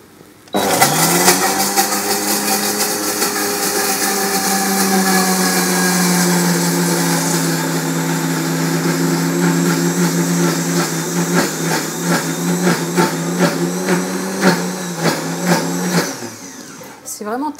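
Mayonnaise of egg yolk, mustard and chive oil being whisked with an electric mixer, a loud steady motor whir that runs for about sixteen seconds, wavers slightly near the end and then cuts off.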